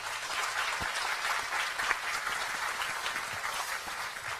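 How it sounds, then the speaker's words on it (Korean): Audience at a public audition forum claps for the judges, giving a steady, even wash of moderate applause from a crowd that carries through the whole few seconds. "우리 심사위원 선생님들한테 박수 한번 좀 부탁드리겠습니다"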